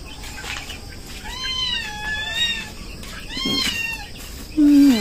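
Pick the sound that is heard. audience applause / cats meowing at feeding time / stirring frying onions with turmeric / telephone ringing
cats meowing at feeding time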